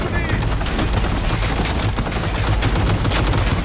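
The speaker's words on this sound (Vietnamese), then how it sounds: "Má nó bắn quá." Sustained rapid gunfire from a firefight in the video game Cyberpunk 2077, dense automatic bursts and shots running continuously at steady loudness throughout.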